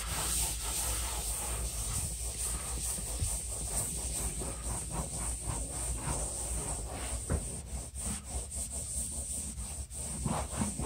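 A wet rag wipes across freshly patched and sanded holes in a wall, making a steady, close scrubbing rub with short repeated strokes that grow slightly more pronounced toward the end.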